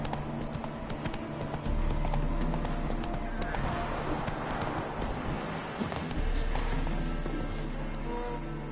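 Horse hooves gallop in a steady clip-clop rhythm while riding in The Witcher 3, with continuous game ambience and music beneath, a brief whinny possible.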